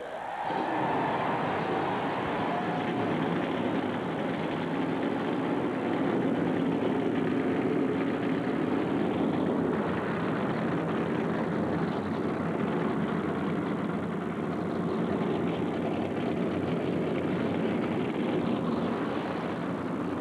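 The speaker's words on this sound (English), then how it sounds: "Let's start your engine." NASCAR Winston Cup stock car engines idling at the 2000 Pennzoil 400, a steady low rumble of many engines held at a constant level throughout, with no talk.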